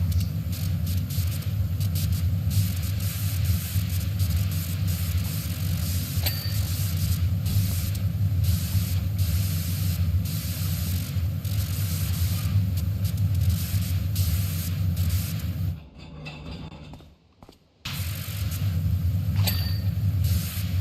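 A pressure washer nozzle spraying in PowerWash Simulator, a loud steady rushing hiss with a low rumble that runs almost unbroken, dropping out briefly near the end before resuming.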